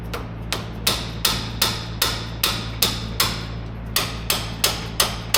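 Repeated dead blow hammer strikes on rusted frame head bolts of a 1969 VW Convertible, about a dozen sharp hits at a steady quick rhythm over a low constant hum, close and loud with no talk.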